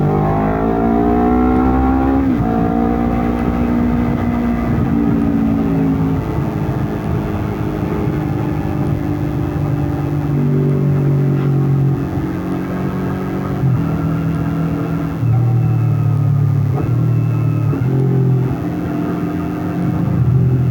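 Honda CBR 250 RR, a 249 cc sport motorcycle, howls loudly as its engine revs hard while riding, pitch climbing through several gears with brief dips at each shift, wind buffeting underneath.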